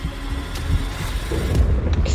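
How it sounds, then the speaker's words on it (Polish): Thunder rumbles in the video game Minecraft, a low, rolling boom that swells and lingers for a couple of seconds under faint game noise. "Ale pioruny"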